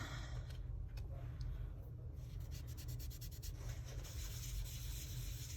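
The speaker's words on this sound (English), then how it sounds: "I'm just going to get a little bit of blue just right off of this little guy here and just rub that into the purple" Chalk pastel rubbed onto paper, a continuous soft scratchy rubbing with brief faster strokes, close and quiet with no voice.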